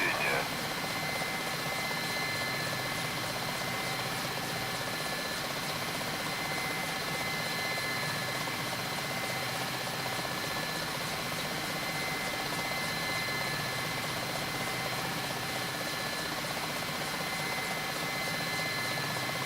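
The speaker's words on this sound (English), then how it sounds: "The startup checklist for an MI-8 helicopter, mostly as according to the U.S. Air Force." Mi-8 helicopter engine running steadily in the DCS World flight simulator, a constant loud turbine whine and rotor hum throughout with no break.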